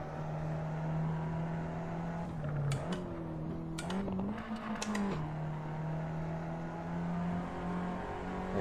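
A car in the Assetto Corsa racing game, gear changes made with paddles, accelerating hard out of a corner. A steady engine drone rises in pitch as it revs, with brief clicks and shifts partway through, loud and close.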